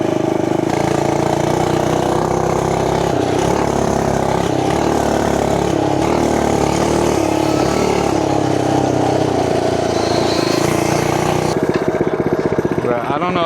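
The small engine of a cheap Amazon mini bike runs close and loud with a steady, buzzing drone throughout, while people talk over it.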